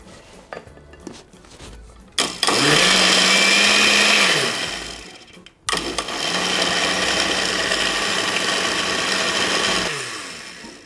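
A kitchen blender whirs loudly in two long bursts, about three and six seconds each, with a short stop between, mixing corn cake batter made with whey protein and xylitol.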